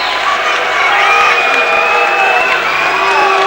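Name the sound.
boxing crowd cheering Jesse Ferguson's ring walk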